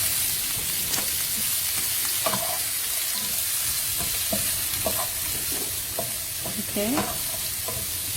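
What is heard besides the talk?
onion frying in a pan for pasta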